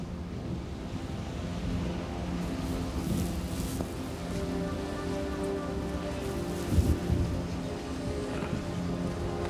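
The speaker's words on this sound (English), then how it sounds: "It's going to rain." Steady rain falls outdoors as a dense, continuous hiss of drops on surfaces, with wind noise and a low rumbling bed underneath and no speech.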